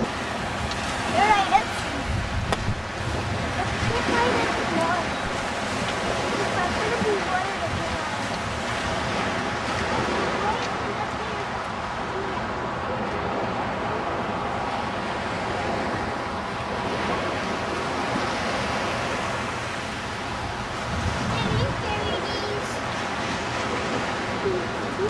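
Ocean surf and wind at a Galveston beach: a continuous wash of waves and heavy wind buffeting the microphone, with voices talking intermittently over the roar.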